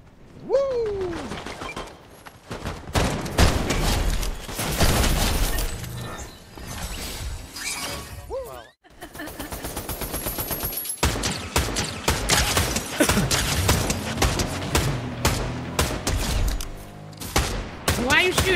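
Rapid bursts of gunfire from bots in Fortnite, loud and dense, with sustained automatic fire, impacts and crashing effects across most of the stretch and one brief dropout near the middle.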